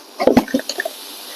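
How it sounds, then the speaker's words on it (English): A vacuum attachment sucks water back out of a car seat during interior detailing, giving a few close, wet gurgling slurps in quick succession. A steady hiss continues underneath once they fade. "And this water is getting inserted into the seat. It's also getting soaked out with the vacuum attachment."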